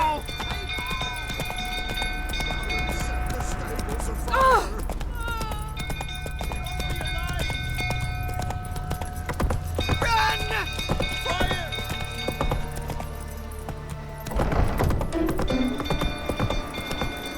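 Geralt's horse Roach galloping in The Witcher 3, rhythmic hoofbeats clip-clopping steadily under game music with snorts and a whinny, while voices talk over the ride.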